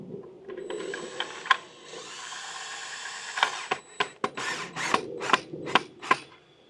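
Power drill fastening the rear mounting bracket of an outdoor square black RGB wall light, heard as a run of short, sharp whirring and ratcheting bursts, close and fairly loud, with handling clatter between them and no talking.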